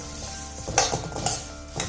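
Puffed rice is stirred in a hot pan, a dry rustling sizzle broken by sharp spoon scrapes and clinks against the metal, close and fairly quiet with no talking.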